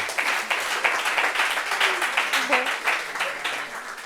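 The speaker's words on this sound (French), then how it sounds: "On applaudit pour lui." An audience at a French talk on work burnout claps steadily for a guest, a dense patter of many hands held at an even level, with a few voices speaking faintly underneath.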